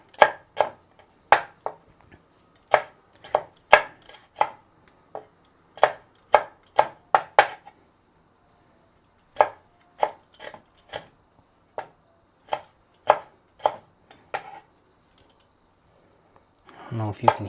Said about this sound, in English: Just chop it up really finely.